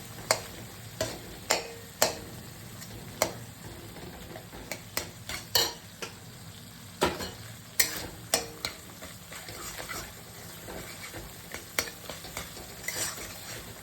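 Onion, ginger, garlic, cumin and red chili paste frying in oil with tomatoes for a duck egg and potato curry, giving a soft, steady sizzle punctuated by sharp, irregular taps of a spoon on the pan, with no voices.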